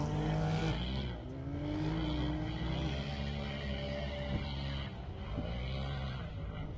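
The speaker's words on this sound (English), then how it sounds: "Off the line, Chase Caprera in his Can-Am UTV." A Can-Am UTV launches off the start line of a muddy, wet off-road race, its engine revving loud and steady with a roaring, rising drone and no talk.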